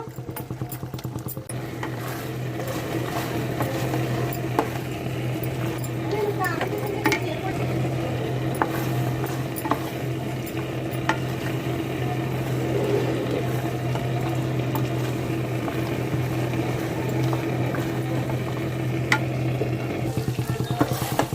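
Goat tripe curry cooking down in oil in a pan gives a continuous, fairly loud sizzle and bubbling with occasional stirring scrapes, steady and unbroken throughout.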